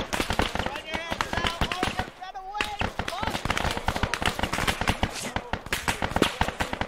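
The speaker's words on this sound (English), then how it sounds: "We're getting shot at by a fucking sniper!" Sniper fire and other gunfire crack repeatedly in a military video game. The sharp shots come in rapid bursts, with shouting voices over and between them.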